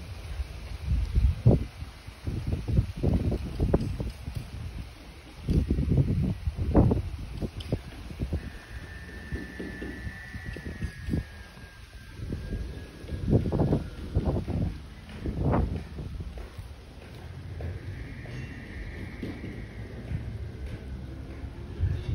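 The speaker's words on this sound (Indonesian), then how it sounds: "Ini angin badai ya, ini sangat dahsyat kali anginnya." Strong stormy wind buffeting an eagle-shaped kite flying high, heard as irregular roaring gusts and rumbling microphone wind noise with a faint whistling tone drifting through, loud and continuous throughout.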